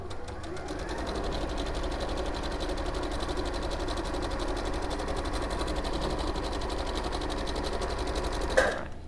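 A domestic sewing machine stitches along fabric a quarter inch in, its steady rapid mechanical whir running evenly throughout, with a brief soft clunk near the end.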